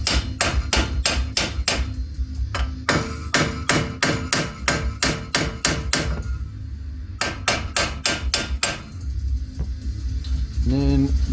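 Rapid, loud hammer blows strike a suspension part on a 2010 Dodge Grand Caravan, landing close in steady fast runs broken by a few short pauses.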